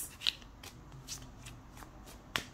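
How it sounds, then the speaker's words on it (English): Tarot cards are shuffled by hand in a quiet room, giving a few short, crisp riffling bursts separated by soft shuffling rustles, close and fairly faint with no talking. "Just gonna shuffle a little bit more."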